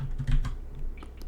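Quick, light keystrokes on a computer keyboard while code is typed, a short run of close clicks in an irregular rhythm, fairly quiet against a faint room hum.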